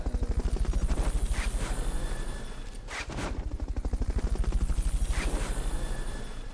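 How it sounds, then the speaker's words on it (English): A Fulton recovery helicopter in Metal Gear Solid: Peace Walker gives a loud, steady rhythmic rotor chop that continues throughout, broken by a brief burst in the middle. "they just shoot up into the sky, and then they get picked up by a helicopter"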